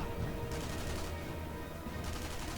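Gunfire in the video game Sniper Elite V2, a dense continuous burst of rapid shots forming a loud, steady rattling barrage with no pauses and no voices.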